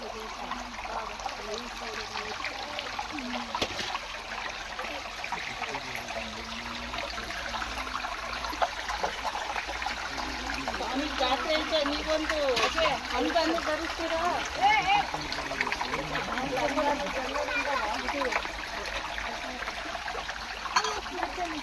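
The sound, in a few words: flowing stream water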